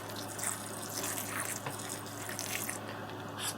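Water pours steadily into a spider's enclosure to top it off, a continuous close splashing and trickling wash with no pauses.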